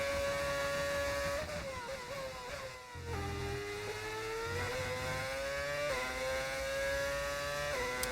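Modded racing car engine from a racing video game at the Brazil circuit, winding up through rising revs with gear shifts and a short lift mid-run, steady and prominent with no talk over it.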